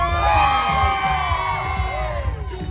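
A crowd at a civic city parade cheers loudly, a dense burst of shouts, whoops and yells from many voices, close and strong throughout.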